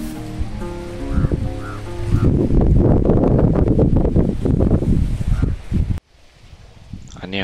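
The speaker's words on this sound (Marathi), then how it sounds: "संक्रांत आहे, तर वारं बघा कसं सुटलंय." Strong outdoor wind on a kite-flying festival day rushes in loud gusts that buffet the microphone, after a brief voice at the start, before the sound cuts off abruptly.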